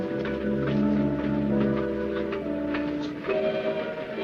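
A steady low rumble with sustained droning tones, heard from inside a moving railway carriage, continuous and fairly loud with no voices over it.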